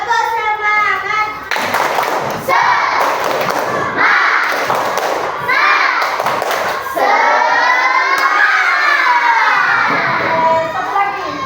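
Children clap out a rhythmic spirit cheer in a classroom, loud bursts of claps and thumps in patterned groups, mixed with their chanting voices.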